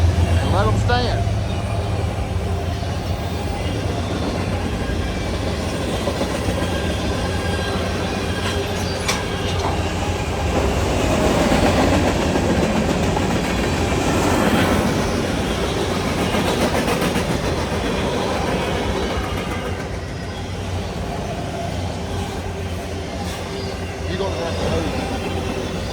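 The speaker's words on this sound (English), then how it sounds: "we got a train coming" A train rumbles past in a busy city area where draft horses are being held still, a loud sustained roll with wheel squeal that swells and fades over nearly half a minute while people talk.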